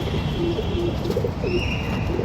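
Pigeons coo in a home loft where a breeding pair has hatched chicks, with soft repeated low coos close by and an occasional higher chirp over a steady background hum.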